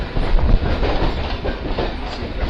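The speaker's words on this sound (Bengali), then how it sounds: "বাদিকে যে ট্রেনটা যাচ্ছে সেটা কিন্তু কারশেডে ঢুকছে" A local train rolls along the railway tracks toward the car shed on the Sealdah line, a loud, close, continuous rumble with rhythmic clatter of wheels over rail joints and no voices.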